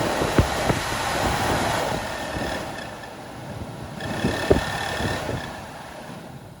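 Newly replaced heater blower motor in an Opel Combo van running at its top speed, a steady whirring fan hum with airflow rush, rising slightly with a few faint clicks, no talk.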